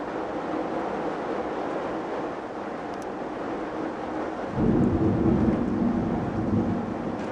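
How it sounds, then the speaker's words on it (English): Steady rain roars with a low rumble of thunder, swelling louder partway through. "she's so freaked out of just rain and thunder"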